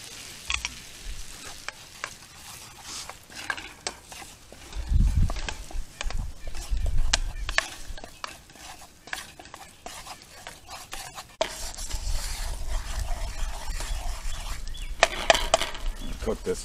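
Butter and flour roux cooking in a pan over a campfire outdoors, with stirring scrapes and a soft, steady sizzle that thickens and grows louder in the second half, close to the microphone.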